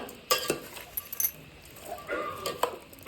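Pork being mixed with chillies, turmeric and salt in a metal vessel for Malnad-style pork: light clinks and scrapes of a utensil against the pot, irregular and close, without talk.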